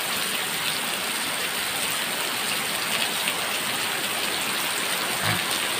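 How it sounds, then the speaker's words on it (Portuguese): Rain falls steadily in southern Pará, Brazil, a dense, even hiss that stays constant and fairly loud throughout, with no voices. "Veja a chuva no sul do Pará, Davi."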